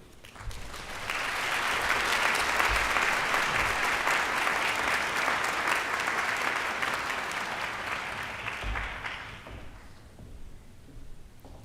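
Sustained applause from a commencement audience at Morehouse School of Medicine's winter graduation, a dense wash of clapping that swells quickly, holds steady for about eight seconds, then fades out.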